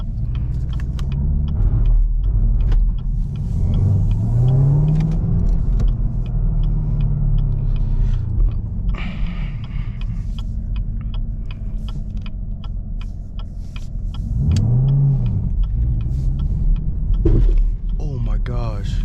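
A six-speed manual Chevrolet Camaro ZL1 drives country back roads, its engine rumbling and surging through repeated revving pulls and gear changes, loud and close from inside the cabin, with clicks and knocks in between.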